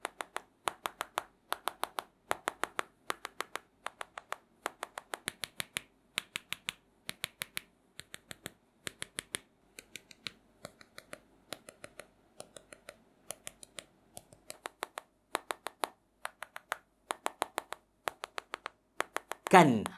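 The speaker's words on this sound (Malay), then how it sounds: "kalau kita ketuk bahagian hadapan skrin dia, kita dapat rasa di bahagian dalam dia ni macam hollow, macam ada kekosongan gitu" Fingers tap steadily on the front screen of a Google Pixel 6, making a rapid series of light, hollow clicks that run evenly throughout, close up and fairly quiet.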